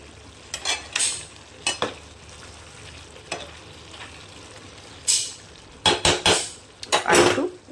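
Pumpkin and mixed vegetables with lentil dumplings stir-frying in a pan: a soft sizzle underneath repeated scraping strokes of a spatula against the metal pan, in irregular bursts, close by with no talking.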